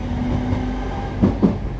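A Northern Trains class 323 electric train rolls along near Liverpool with a steady rumble and a faint motor whine, then two sharp clacks of wheels over rail joints.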